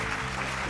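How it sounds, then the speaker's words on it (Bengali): Brief, dense applause rises from a game show studio audience for the contestants, a short continuous patter of many hands. "আপনাদের সকলের জন্য আরো একবার হাততালি দিচ্ছি।"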